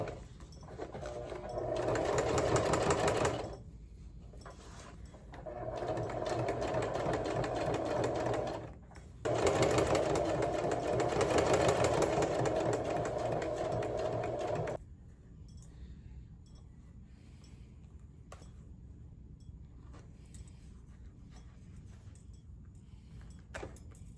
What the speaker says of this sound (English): we're just gonna like sew it.